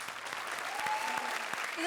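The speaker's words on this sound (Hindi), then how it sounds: "एक बार जोरदार तालियां कपिल और पार्वती के लिए।" Studio audience applause at a televised comedy show, steady and dense throughout the short stretch, with someone speaking over it.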